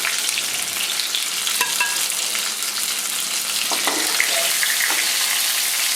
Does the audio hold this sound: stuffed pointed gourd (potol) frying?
yes